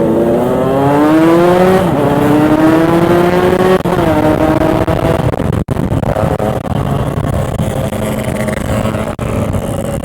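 A Yamaha RX King two-stroke motorcycle runs at full throttle, its engine screaming up through the gears in rising sweeps that break off at each shift, loud and continuous under rushing wind.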